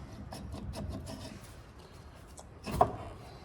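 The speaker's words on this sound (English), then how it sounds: "This is the mating surface. Ben's cleaning that up with a little bit of Scotch-Brite." A Scotch-Brite pad scrubs the hub mating surface on a Ford F-250 to F-550 truck, giving soft, quick rasping strokes at close range, followed by a brief metallic clunk.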